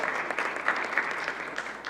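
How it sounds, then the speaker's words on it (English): Brief, lively burst of audience applause at a press event on PARCC results, many hands clapping close and continuously with a few sharper claps standing out. "Give him a round of applause."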